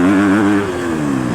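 A 2019 Husqvarna FC250 dirt bike engine sounds close and loud, its buzzing tone easing down in pitch after a rev, with no talking.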